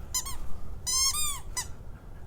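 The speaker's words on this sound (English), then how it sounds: "Squeaky toy," A squeaky toy is squeezed a few times, giving sharp high-pitched squeals in quick uneven bursts, close and clear against a quiet background.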